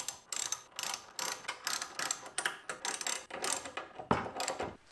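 Ratchet wrench tightening two nuts on the carburetor intake adapter of a cheap mini bike, loud close bursts of rapid clicking in a regular back-and-forth rhythm with brief pauses between strokes.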